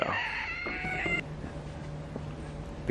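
A few quiet, short calls from Silkie hens sound near the start, then soft background noise follows with occasional faint clucks.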